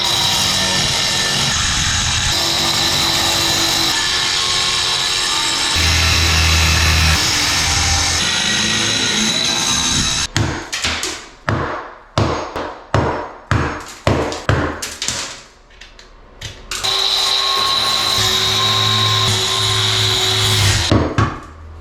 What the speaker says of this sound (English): cutting through all this mortar and tile without messing it up too bad